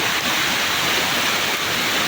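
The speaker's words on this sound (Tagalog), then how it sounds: "at ito na ngayon yung sapa" Steady, loud roar of a rushing stream swollen by typhoon rain, close-up churning water noise with no voices.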